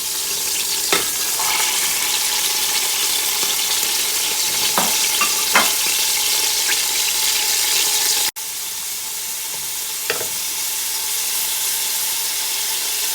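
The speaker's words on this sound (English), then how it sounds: "just gonna let that sizzle, and I'm popping in my onions" Onions sizzle steadily in hot vegetable oil, a constant crackling hiss with occasional sharper pops and a few clinks from stirring.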